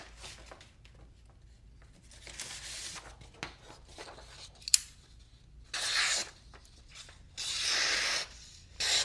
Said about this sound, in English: While we've got it out, we might as well cut some paper.